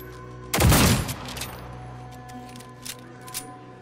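Weapon fire in the video game Fallout 4: one loud, close blast rings out and then decays, followed by a few faint clicks and small metallic taps, with no talking.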